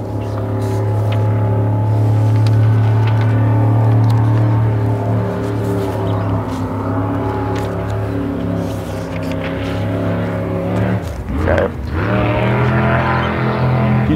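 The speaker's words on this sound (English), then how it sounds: "just hear that a lot here. Just a lot of boats." Boat engines passing nearby on the water, a loud steady low drone with a tonal hum that shifts pitch as a vessel goes by.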